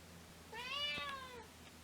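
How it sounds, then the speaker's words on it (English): A house cat gives one loud, drawn-out meow that rises and then falls, heard close by over a quiet room. "Looking at some of those details while my cat yells at me"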